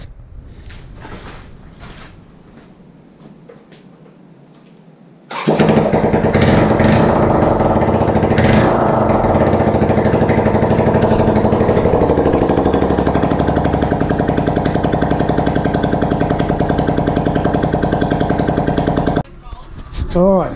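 A Suzuki GS 125 motorcycle engine cranks and catches, then runs loudly and steadily at a close idle for about fourteen seconds before cutting out, with faint voices and clatter before it starts.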